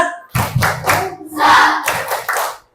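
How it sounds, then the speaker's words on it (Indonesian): A sixth-grade class performs a rhythmic spirit clap together, bursts of group clapping in a patterned beat mixed with chanting young voices, loud and close in the classroom. "semuanya kita coba tepuk semangat"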